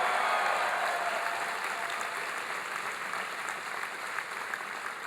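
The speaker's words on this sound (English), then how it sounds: "Give him a big round of applause." A large audience at a political rally applauds and cheers, a sustained, dense wash of clapping from a big crowd that holds steady for several seconds, with no speech over it.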